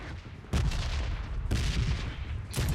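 Loud bursts of rifle spray in the battle royale game BGMI on the Erangel map, three dense volleys of rapid shots arriving about a second apart, each ringing out over a steady background with no talk.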